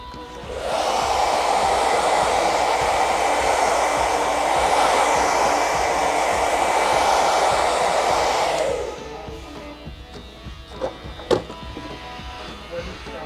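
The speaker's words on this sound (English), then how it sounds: "go around the whole head and just you want to blow all that excess hair off" A blow dryer blasts excess hair off a head after a barber haircut, a loud steady whoosh with a faint tone for about eight seconds, then cuts off to quiet handling noises.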